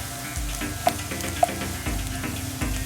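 Spices with cayenne pepper and a bay leaf toast and sizzle in a pot for New Orleans-style gumbo, a steady close frying hiss broken by a few soft stirring scrapes and clicks, with no talking.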